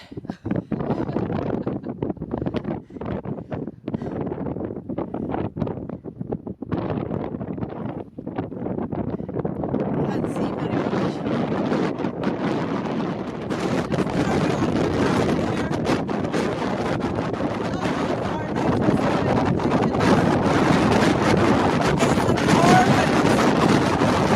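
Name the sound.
strong wind in a blizzard on a mountain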